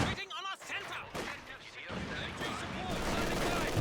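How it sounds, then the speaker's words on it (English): A machine gun fires in Company of Heroes 2, sending dense crackling bursts through a noisy battle while a voice talks over it. "I was wondering what was going on with that machine gun."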